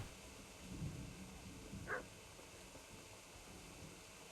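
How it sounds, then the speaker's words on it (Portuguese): A dog barks faintly in the distance in the video game Kingdom Come: Deliverance, one or two short yips over quiet ambient outdoor hiss with no speech. "Tô escutando um cachorro."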